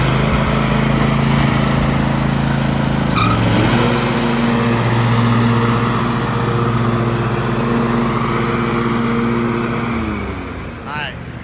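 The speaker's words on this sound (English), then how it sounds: "First test of the mowing." A John Deere riding lawn mower running during its first mowing test after servicing and repair, a loud steady engine drone close by with a pitch shift partway through, then fading out near the end.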